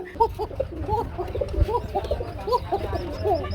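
Pigeons at a pigeon market coo in repeated soft throaty phrases close by, with several birds overlapping above a low murmur of background noise.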